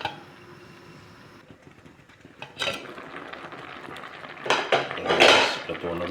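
A metal lid clanks and settles onto a pot of mixed vegetables cooking in coconut milk with dried shrimp, a few sharp close clinks and rattles following quieter kitchen shuffling.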